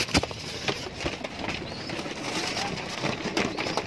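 Pigeons in a loft coo softly amid a noisy background of wingbeats and shuffling, with intermittent sharper knocks and flutters.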